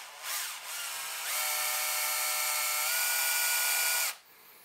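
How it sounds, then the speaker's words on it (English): Power drill twisting tube amplifier heater wires together, a steady high-pitched motor whine running continuously for about three seconds after a couple of short starts, loud and close with no talk. "make sure the drill's going in the right direction"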